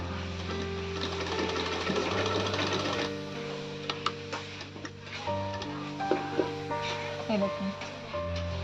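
A sewing machine runs up the side seam of a kaftan nightie in bursts of rapid close stitching, with pauses and light clicks of the fabric being handled between runs.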